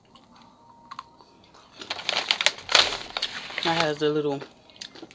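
Crunch 'n Munch caramel popcorn crunches in loud, close bursts while someone chews, with a voice speaking briefly around the crunching.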